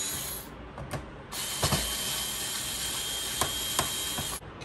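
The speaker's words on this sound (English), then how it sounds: "Just make sure that you have unscrewed every screw using the right screwdriver." A screwdriver turns screws out of a laptop casing, giving a steady close scraping whir with a few small clicks and ticks, fairly quiet and with no voices.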